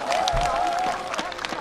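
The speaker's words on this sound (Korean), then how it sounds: "우리 서지우씨에 박수 한번 주시기 바랍니다" A studio audience applauds for Seo Ji-woo on a Korean entertainment show, producing a steady mass of clapping under a lingering voice-like tone, which thins out toward the end.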